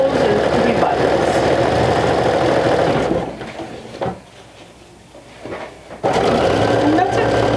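A sewing machine stitches buttonholes on a vintage jumper in fast, steady bursts, then goes quiet for a few seconds before running again.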